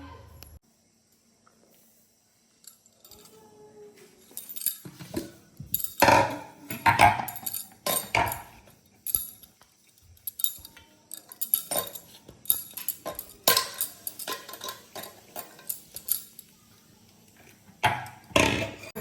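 Dirty plates and dishes left after children ate are gathered and carried off, with clinks and clatters of crockery and cutlery coming in irregular bursts close by, some louder knocks between quieter handling.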